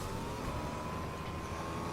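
A car drives in Fortnite, giving a steady, unbroken engine drone with a faint whine on top, close and even in loudness throughout.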